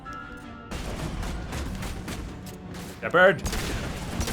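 A heavy pistol fires in Mass Effect 2 on Insanity, with rapid punchy shots landing among other battle noise and one louder blast near the end, as a voice speaks briefly.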